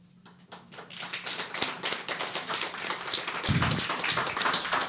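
An audience at a panel talk on health, science and democratic trust applauds the panelists, beginning with a few scattered claps that quickly swell into dense, sustained applause close by.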